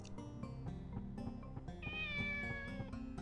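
A cat meows in the video game Shenmue, one clear drawn-out meow rising over a soft background of game music with rhythmic notes.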